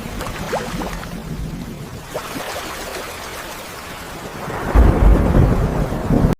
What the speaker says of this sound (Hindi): दिन बीतते गए और मूसलाधार बारिश लगातार होती रही।